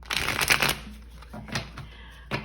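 A deck of tarot-style cards is shuffled by hand for a card reading, a few quick rustling riffles up front followed by softer, sparse flicks and taps of cards, close and fairly quiet with no talking.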